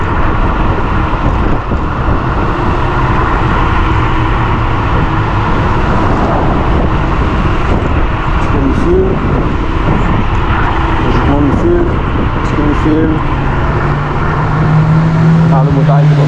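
A motor vehicle comes up from behind and passes a rider on a Teverun Blade GT2 60V electric scooter on a road. Its engine drones beneath loud, constant wind rush, and a voice talks over it.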